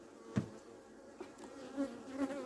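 Honey bees buzz around an opened beehive frame during an inspection, faint scattered hums with a few brief louder passes close by over quiet background.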